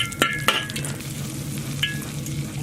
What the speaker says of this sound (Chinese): 倒入烧红的油